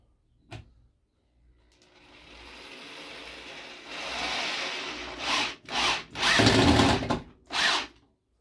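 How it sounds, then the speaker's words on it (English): A power drill whirs up and bores into wood, first in a long steady run, then in several short loud bursts with pauses. "I'm just going to drill"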